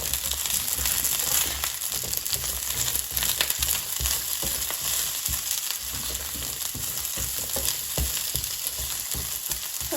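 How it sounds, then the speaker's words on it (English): Radishes sizzle in hot oil in a pan on medium-high heat. The frying crackles steadily and up close, broken by frequent scraping and clatter as the pieces are stirred. "So I'm going to reduce the heat to medium-high and mix the radishes so they cook evenly."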